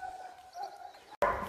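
Dogs bark and yip faintly in the distance at an animal shelter in Berlin, a few scattered calls followed by a sharper, closer bark at the end.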